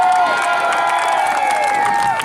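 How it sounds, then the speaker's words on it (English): A crowd at an Outlaws of Motorsport show in Brandon, Manitoba makes a loud, steady wash of noise, with cheering and scattered shouts blending into applause that carries on without a break. "Respectable applause"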